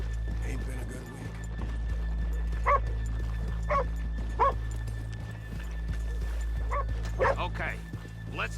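Horses' hooves clopping and a dog barking and whimpering in the Red Dead Redemption 2 game world, with a few sharp barks over a steady low hum while people talk.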